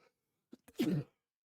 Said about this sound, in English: Hold on, sorry, I'm gonna sneeze.